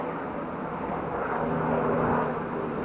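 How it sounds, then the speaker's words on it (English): A helicopter flies overhead outdoors at an allotment, a steady broad rumbling drone that swells slightly as it passes, heard alone without talk. "And there's a helicopter going over."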